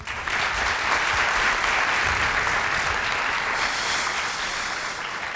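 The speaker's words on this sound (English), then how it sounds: "Please give a big round of applause for Mr. Angel Medinilla." Conference attendees give a sustained round of applause at an agile software conference in Serbia as a speaker is introduced, a dense, even roar of clapping from a sizable crowd.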